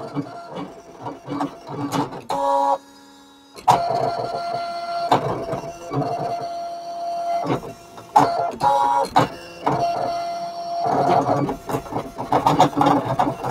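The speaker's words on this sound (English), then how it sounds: "I'll have these pages printed out with different images, and then I'll cut them out with my Scan and Cut" A Brother Scan and Cut machine cutting paper die cuts, whirring motor runs and mechanical clicks and shuttling in uneven bursts with short pauses, close and steady throughout.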